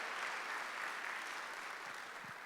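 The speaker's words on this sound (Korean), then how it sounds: "박수." Church congregation at a Sunday worship service applauding, a steady wash of clapping from many hands, fairly faint and even throughout.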